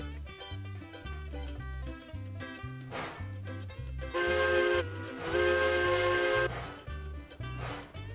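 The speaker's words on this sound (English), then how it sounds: "The whistle does sound kind of beefy." A steam locomotive whistle in the Railroads Online train video game gives two loud, harmonic blasts, the second longer, over steady rhythmic background music.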